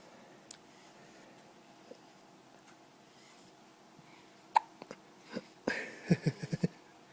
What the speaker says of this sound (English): Oh, the big hiccups.